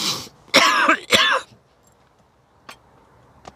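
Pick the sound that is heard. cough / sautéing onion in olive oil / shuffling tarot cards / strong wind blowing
cough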